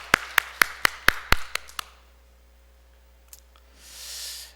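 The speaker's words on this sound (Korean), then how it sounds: "하나님께 영광의 박수를 올려드리겠습니다." A church congregation at a Sunday morning worship service claps in unison, about eight sharp, evenly spaced claps that fade out, followed by quiet room tone and a soft rustle near the end.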